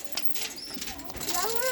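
Birds call at the Sidkeong Tulku bird park in Pelling, with pigeon-like coos and brief chirps mixed under nearby people talking.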